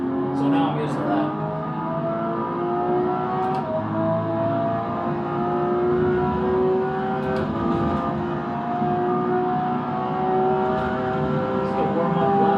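A race car engine on a warm-up lap in the sim racing game AC EVO, a steady droning whine with rising and shifting pitch across gear changes, continuous and loud, with a voice speaking over it.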